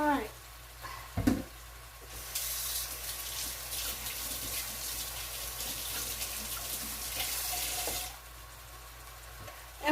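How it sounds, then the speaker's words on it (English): Chicken and vegetables searing in a pan, a steady bright sizzle that rises after a clunk and runs for several seconds before cutting off, with low kitchen rumble beneath. "we're going to leave this meat in here alone and let it come to a good sear"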